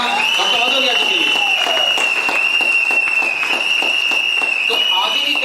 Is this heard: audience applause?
yes